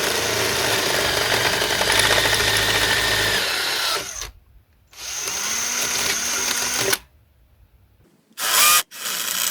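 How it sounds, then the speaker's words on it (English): Power drill opening out bolt holes during repair and upgrade work on a Class 31 model locomotive, a steady loud whine for about four seconds, then two more short bursts separated by quiet pauses. "Then I'll just open these holes out now to the correct size for the bolt."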